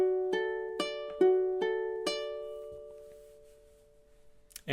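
A ukulele picks measure 13 of The Last of Us main theme, five or six slow, clear plucked notes in a steady rhythm that ring out and fade into quiet, played alone and close.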